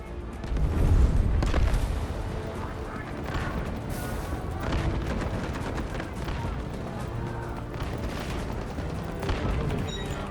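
An artillery barrage hits in the video game Delta Force: a heavy, rumbling boom swells early, then repeated dull impacts and crackling blasts roll on under a busy, cluttered mix with voices talking.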